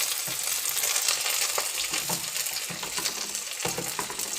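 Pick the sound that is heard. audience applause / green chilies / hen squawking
green chilies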